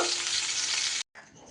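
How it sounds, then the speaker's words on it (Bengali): Potato and pointed gourd pieces stir-frying in oil in a pan, a dense, loud, close hiss of frying that drops out abruptly for a moment and then returns softer. "আলু আর পটল আমি এইভাবে নাড়াচাড়া করে ভেজে নিচ্ছি"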